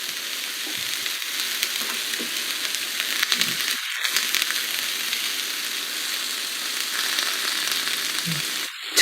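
Onions and turmeric sizzling in a frying pan, a steady close hiss of frying with a few light stirring clinks, no talk.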